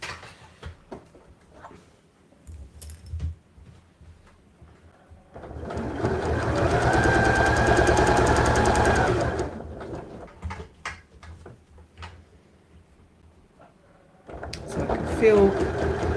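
A sewing machine stitches a fabric side pouch in one sustained loud whirring run of several seconds, with a shorter burst near the end, framed by handling clatter and softer sounds before and after.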